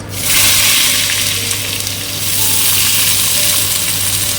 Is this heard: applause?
no